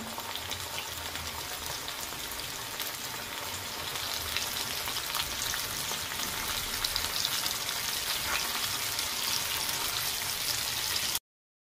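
Chicken popcorn deep-fries in oil over a low flame, giving a steady, dense, close sizzle that runs unbroken with no voices.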